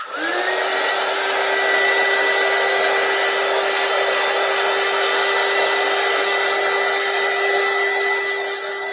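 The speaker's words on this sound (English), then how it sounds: "Let me dry this up some." A hair dryer runs steadily and loudly throughout, drying a craft project, with a constant whining motor hum that starts almost at once and holds an even pitch to the end.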